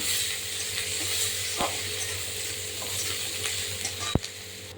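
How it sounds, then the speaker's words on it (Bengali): Chopped onions added to cumin in hot oil fry with a steady broad sizzle, stirred now and then, with one sharp metallic clink of a utensil near the end. "এবার দিয়ে দেবো আমি পেঁয়াজ কুচি একটু পেঁয়াজটাকে লাল লাল করে নেবো"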